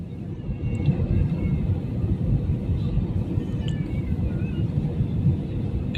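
Inside an airplane descending to land, a constant low engine rumble and cabin roar fills the space, steady and enveloping without any voices.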